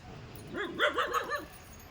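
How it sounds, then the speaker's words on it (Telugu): Hunting-breed dogs in the Vizianagaram district area give a short burst of yipping barks and whimpers, rising and falling in a quick rhythmic run before fading, fairly close and alone with no talk. "ఈ బ్రీడు హంటింగ్ కోసమే బ్రీడ్ చేసిన డాగ్స్ ఇవి"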